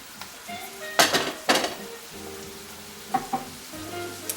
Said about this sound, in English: the onion is starting to fry a little bit